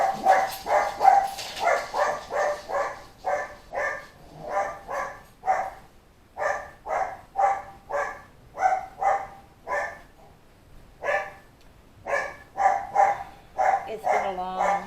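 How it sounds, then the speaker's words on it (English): A dog barks repeatedly and loudly up close in a home, in steady bursts of sharp barks with brief pauses, the barking carrying on for the whole stretch. "Why are you barking?"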